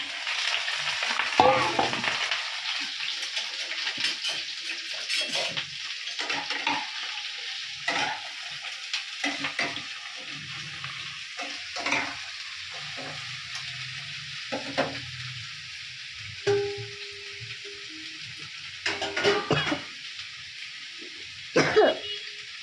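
Food frying in hot oil, with a steady sizzling hiss running throughout and intermittent stirring clatters and scrapes cutting through at close range; no voices.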